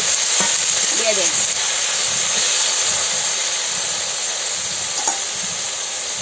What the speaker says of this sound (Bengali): কচুগুলো হালকা একটু তেলে ভাজা হবে, তারপরে লবণ মরিচ দেওয়া হবে।